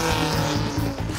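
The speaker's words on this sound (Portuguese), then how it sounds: "viemos para um teste com um carro de corridas de verdade" A Spider Race prototype race car, built on a tubular chassis with fiberglass bodywork, drives on track. A brief, loud, close engine drone with strong pulsing harmonics lasts about a second.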